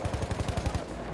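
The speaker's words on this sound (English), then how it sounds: "That's an enemy machine gun!" An enemy machine gun fires in a first-person shooter on the Achi Baba map, a short burst of rapid, evenly spaced shots that are fairly loud and dense.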